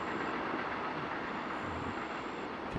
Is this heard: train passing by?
yes